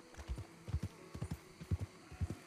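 Horse hooves clip-clop in Red Dead Redemption 2, a steady rhythmic gait of paired low thuds repeating about every half second, close and fairly quiet, with no talk.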